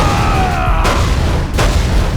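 A loud explosion from the firefighting video game Real Heroes Firefighter booms over a constant low rumble, with a second burst following about a second later, and no voices present.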